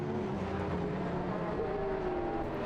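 Race cars battling for position through the bends at Jyllandsringen, with a yellow BMW in the pack, a continuous loud engine drone that holds steady as the cars bunch up.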